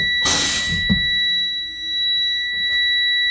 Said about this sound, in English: So it activated at 60 psi. I can see the light, I can hear the buzzer.